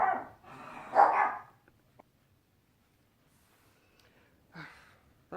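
A small dog barks indoors in a few short bursts, two quick clustered yips at the start, a pause of near silence, then another bark near the end, fairly close and moderately loud.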